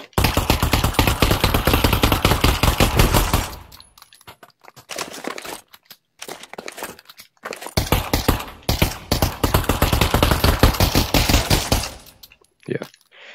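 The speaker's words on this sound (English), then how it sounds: "Alright, ignore those gunshots" Loud, rapid bursts of automatic gunfire in the VR shooter Pavlov VR on the Datacenter map, long rattling volleys broken by short pauses and a few scattered single shots.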